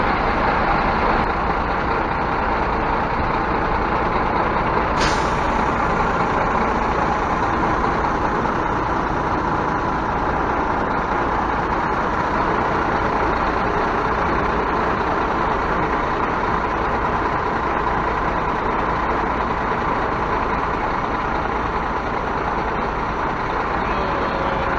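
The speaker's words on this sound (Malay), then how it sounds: "Sekarang dah pandu balik truck China model Dayun DYX 12" A Dayun DYX12 420G Chinese truck driving, a loud steady engine and road rumble from inside the cab, with a short sharp air-brake hiss early on.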